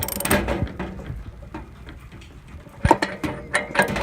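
1/2-inch drive ratchet tightening an anode rod in a Suburban RV water heater, quick clicking pawl bursts and metallic clanks up close, separated by quieter pauses, no voices.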